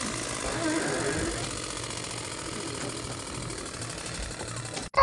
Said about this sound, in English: we're amplifying this fidget spinner onto a sheet of paper